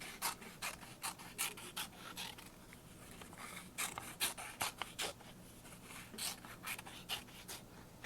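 Scissors cutting around a paper circle on antique-style scrapbook paper, a close, quiet series of short snipping and rasping strokes in an irregular rhythm with no talking.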